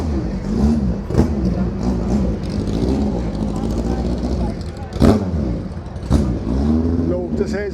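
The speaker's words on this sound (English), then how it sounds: "all the late 50s, early 60s single-seater race cars" Late 1950s to early 1960s single-seater race cars, some from Lotus, rumble and rev at a vintage racing meeting at Goodwood, with loud engine noise throughout, sharp bursts of revving, and people talking over it.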